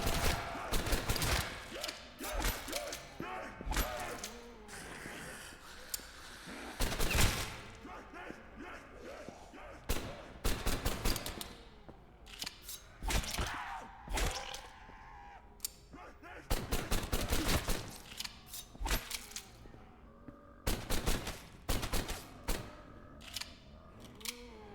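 Assault rifle gunfire in a VRChat zombies shooter, sharp shots rattling off in uneven bursts through the whole stretch, loud and close, with other game sounds and occasional speech between volleys.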